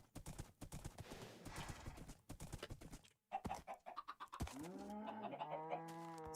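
Hooves of a horse clip-clopping in Minecraft, sounding as a quick steady patter of steps, followed by a whinny and nearby bird and chicken calls, with no talking.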